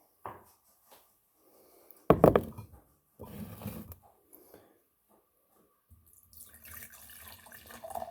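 Kombucha poured from its brewing vessel into a wine glass: a loud splashing gush of liquid around two seconds in, then shorter trickling bursts and quieter clinking handling noises, with no talk.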